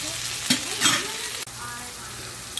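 Minced meat frying in a pan for a pea dish, a loud continuous sizzle with occasional stirring scrapes and a sharp clank, close by and without speech.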